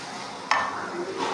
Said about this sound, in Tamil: இந்தமாரி ஸ்லோவாக பெரட்டி விடணும்